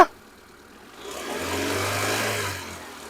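A used petrol car's engine revs up from a quiet idle, holding a steady, fairly loud mid-pitched drone for over a second before easing back down, with no talk over it.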